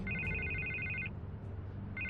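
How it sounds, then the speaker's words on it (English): A telephone ringing in the Batman Telltale Series game, two close electronic ring bursts separated by a short pause, loud and unaccompanied by speech. "I can't get the phone to stop ringing."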